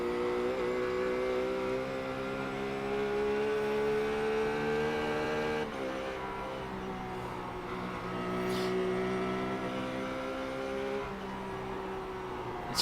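A race car engine in the iRacing simulator drones steadily with layered harmonic tones, dipping and rising slightly as the car shifts and holds speed, heard alone without talk.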